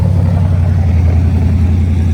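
A sand car built around an LS V8 engine idles loudly and steadily at close range, a deep rumbling drone holding even across the short stretch with no talk over it.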